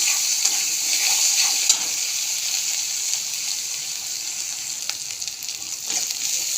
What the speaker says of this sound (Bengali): মশলাটা ভালো করে ভাজা হয়ে গেছে, মশলা থেকে তেল ছেড়ে দিয়েছে